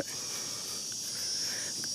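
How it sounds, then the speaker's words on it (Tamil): Beetles drone on a wooded hillside at the Nainamalai Varadaraja Perumal temple, a steady high-pitched buzz that holds evenly throughout at moderate loudness with no other clear sounds. "இந்த இடத்த இங்கே வண்டுகளோட ரீங்காரம் சூப்பராக கேட்குது"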